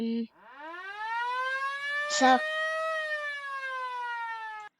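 A nuclear air-raid siren sound effect from Roblox Studio rises in one long wailing tone and holds steady for several seconds, loud and close. A brief voice cuts in near the start and another word is spoken partway through.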